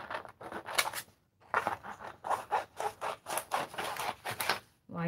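Scissors cut through vellum paper in a series of crisp rhythmic snips and rasping slices, close and fairly loud, broken by brief pauses.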